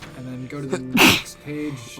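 A single sharp sneeze bursts out mid-conversation during a Hearthstone deck-building session, loud and close, with people talking before and after it.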